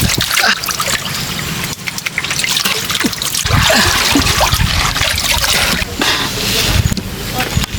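Water drains out of a fishpond at harvest time in a loud, continuous gushing and splashing flow, with voices faintly mixed in beneath the rushing water.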